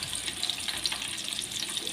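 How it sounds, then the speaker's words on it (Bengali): Hilsa fish frying in mustard oil in a pan, a steady bright hiss and crackle of sizzling oil with faint spatters, continuous and close. "এখন আমি প্যানে সরিষার তেল দিয়ে দিয়েছি। এবার ইলিশ মাছগুলো ভেজে নেব।"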